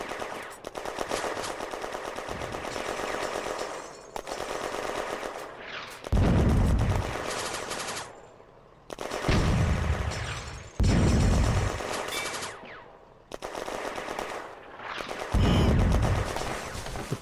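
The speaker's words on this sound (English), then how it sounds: "The mortar moves to fire for effect." Rattling bursts of gunfire in the war video game Firefight, set in June 1940 at Villers Bocage, with heavy booming blasts from a mortar firing for effect, loud and sustained with brief lulls.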